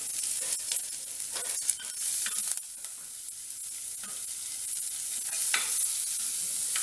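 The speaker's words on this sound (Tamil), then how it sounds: "வெங்காயம் கொஞ்சம் வதங்கட்டும்." Onions, green chilies and curry leaves sauté in a pan for a moong dal khichdi, giving a steady close sizzle with intermittent scrapes and clatters of a stirring spoon, no talking.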